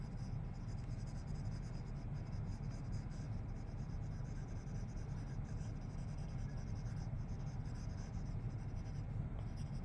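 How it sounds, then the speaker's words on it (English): The side of a stylus pencil shades across a tablet screen while painting a sunset in Procreate, giving a faint, steady, continuous scratchy rub close to the microphone. "I'm using the side of my pencil rather than the point."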